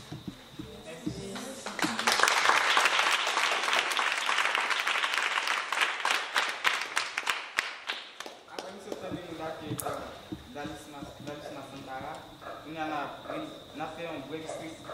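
An audience in Haiti breaks into sustained applause that builds loud and dense for several seconds, then thins into scattered claps as a voice speaks through the fading clapping.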